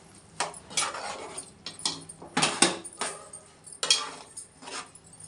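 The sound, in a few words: stirring gongura leaves into mutton curry in a pot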